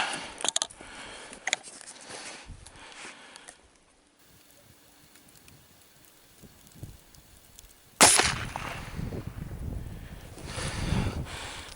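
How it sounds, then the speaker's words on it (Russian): Three shots from an IZh-17 air rifle firing modernized Zenit pellets at a 30-metre target outdoors, heard as sharp cracks against wind noise, with a loud burst near the end. "Произвожу 3 выстрела. Пуля Зенит модернизированная."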